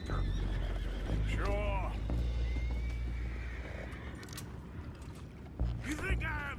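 Horses whinny loudly in Red Dead Redemption 2, with several close neighs over steady hoof clip-clop, low rumbling and creaking mechanisms, and someone speaking briefly.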